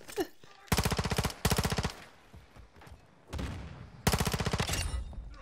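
PDSW submachine gun fired in Modern Warfare 2, four loud rapid-fire bursts of about half a second each, separated by brief pauses and softer game noise.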